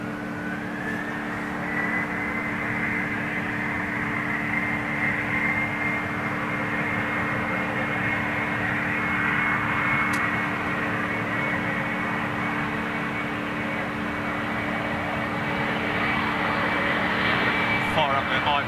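A small Embraer jet in a platypus-style livery with a smiley face rolls on an intersecting departure, its steady engine roar and whine holding for the whole stretch under faint background noise.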